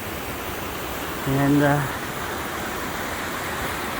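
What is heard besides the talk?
creek water flowing, McHugh Creek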